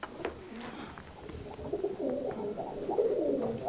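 Pigeons in a breeding loft coo in low, throaty rolling calls, several overlapping and growing fuller toward the end, close by amid soft rustling and shuffling.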